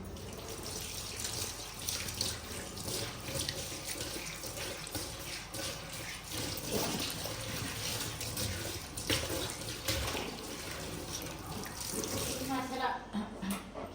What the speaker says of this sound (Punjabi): ਫਿਰ ਮੈਂ ਹੁਣ ਗੋਸ਼ਤ ਧੋਤਾ, ਗੋਸ਼ਤ ਧੋ ਕੇ ਤੇ ਹੁਣ ਮੈਂ ਦੁਬਾਰਾ ਧੋਵਾਂਗੀ